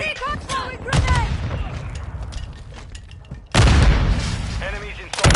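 In the video game Modern Warfare 2, loud gunfire bursts and a heavy grenade boom land close by, sharp repeated cracks with a big blast partway through, under shouted voices.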